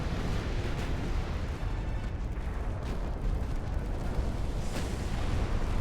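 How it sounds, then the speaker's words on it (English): A ship's magazine detonating in the naval strategy game Ultimate Admiral: Dreadnoughts, with 1890-era hulls: a loud, sustained rumbling blast roar that stays dense and steady throughout, with a few sharper bursts poking through. "Have a magazine detonation, don't you?"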